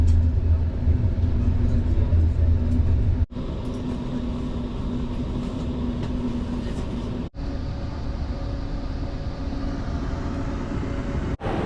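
Steady rumble and rattle of a Trenitalia InterCity Notte sleeper train in motion, heard from a seat inside the carriage, continuous and fairly loud with a low hum and two brief dips.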